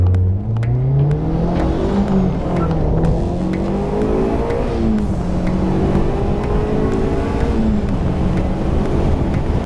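A track-day car engine revs loud and close throughout, pitch climbing and falling through gear changes with wind rush over the microphone, no voices.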